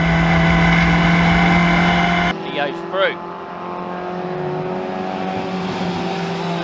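Historic Formula Ford race cars at Brands Hatch scream past at speed, a loud sustained engine note cutting off sharply and leaving fainter engines in the distance while a commentator talks over them.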